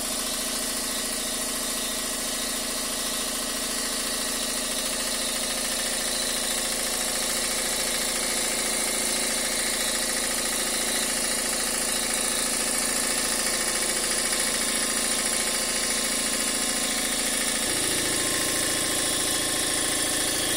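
A Campbell Hausfeld VT6367 30-gallon belt-drive air compressor runs steadily and loudly up close, a constant mechanical drone with no talk, and its low hum shifts noticeably near the end.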